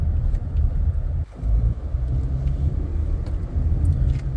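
A Toyota Camry drives at road speed on a bypass, giving a steady low rumble of engine and tire noise with constant wind and cabin hum and a brief dip near the start.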